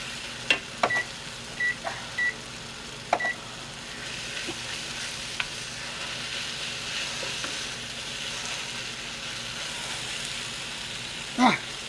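Onions and garlic fry and brown in a hot pan with a steady broad sizzle, broken by a few short beeps and occasional stirring clatters near the start and end.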